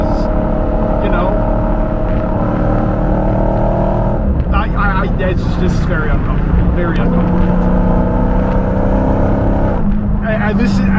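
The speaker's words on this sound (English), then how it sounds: "Now let's corner the Hellcat." A 2023 Dodge Hellcat Jailbreak with a 717 hp engine drones loudly from inside the cabin as it drives through a corner, its engine note shifting and swelling, with someone talking over it.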